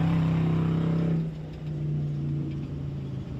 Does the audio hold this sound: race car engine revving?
yes